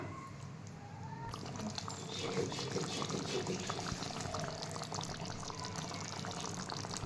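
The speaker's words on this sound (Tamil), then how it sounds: "மிக்சி ஜாரை கழுவி இப்போ தண்ணியை ஊற்றுக்கலாம்" Water pours steadily from a mixer jar into a pan with a continuous splashing rush, close by, lasting several seconds after a brief quieter start.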